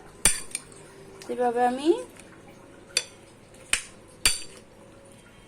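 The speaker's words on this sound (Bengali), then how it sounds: "আমি মশলাটাকে ভালোভাবে মেখে নিব" A spoon clinks against a bowl while pineapple is mixed with spices and kasundi mustard, giving a few sharp, spaced clinks and a short scraping passage as a voice speaks briefly.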